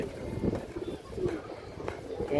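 Pigeons at a farm give low, murmuring coos close by, rising and falling over a few seconds.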